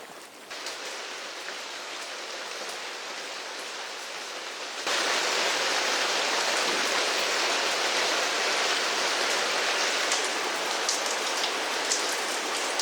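Heavy storm rain pours down on a mountain home in a dense, steady hiss, growing suddenly louder partway through and continuing as an unbroken downpour.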